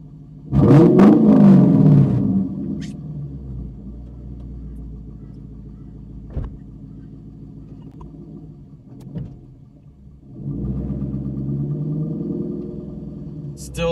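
Car engine picked up by an ambient microphone while driving a full-size four-door sedan in Australia, a low rumble under a loud voice at first, then a quieter hum with small clunks before the engine swells again.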